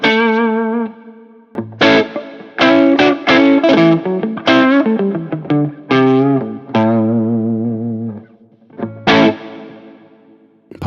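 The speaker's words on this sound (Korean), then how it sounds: "저음이 많은 기타는 게인을 걸었을 때 저음부터 부서지기 때문에 타이트한 팟미터 음이 잘 생기지 않고 조금 퍼지한 성향이 생기게 됩니다." Electric guitar with high-gain distortion, set to its most extreme bass-heavy setting, played as a run of crunchy chords and sustained notes with short breaks, loud and close with no talk.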